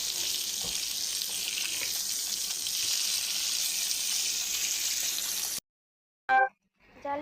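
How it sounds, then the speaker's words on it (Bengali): Slices of ash gourd sizzle steadily in a frying pan at home, a constant hiss that cuts off abruptly, followed by a brief, faint clatter. "জালি কুমড়া ভাজি বসাই দিছো?"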